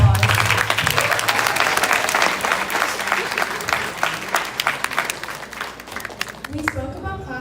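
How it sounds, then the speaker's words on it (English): An audience applauds students at a youth volunteer program's annual day event, a dense, sustained round of clapping from a large crowd that fades near the end as a voice begins speaking. "Please shower them with another round of applause."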